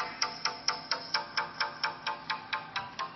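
A song plays through the small built-in speaker of a Google Nexus 4 phone, a steady, evenly spaced rhythmic beat with a bright, thin tone and little bass, fairly quiet and with no voices.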